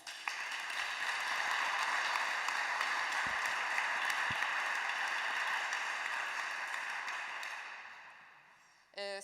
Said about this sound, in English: let's give an applause to them